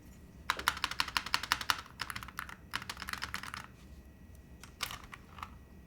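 Typing on a Holy60 mechanical keyboard build: quick bursts of close, crisp key clacks in fast runs, pausing between flurries, with a few heavier single presses near the end, no talking.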